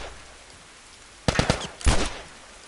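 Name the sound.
gunfire in the video game The Last of Us Remastered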